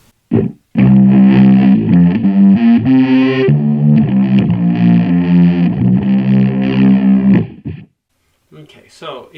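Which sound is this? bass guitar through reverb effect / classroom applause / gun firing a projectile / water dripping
bass guitar through reverb effect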